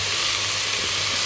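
Food frying in a pan at home gives a steady, bright sizzling hiss that stays even and fairly loud for its whole short length.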